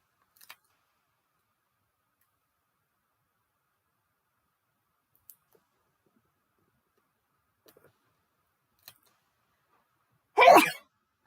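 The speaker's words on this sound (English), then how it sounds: "I thought we were getting past all of this sneezing and sniffling stuff" A woman sneezes once near the end, a short sharp burst after several quiet seconds broken only by a few faint clicks and taps from paper crafting at a desk.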